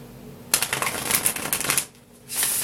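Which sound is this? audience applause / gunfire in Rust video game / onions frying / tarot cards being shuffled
tarot cards being shuffled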